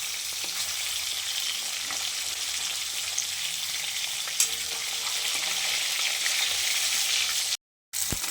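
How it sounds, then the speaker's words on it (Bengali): Four pieces of katla fish fry in oil with a constant, even crackling sizzle at close range, a few soft clicks, and a brief cut to silence near the end. "প্রথমে আমি 4টে মাছ দিয়ে ভেজে নিচ্ছি"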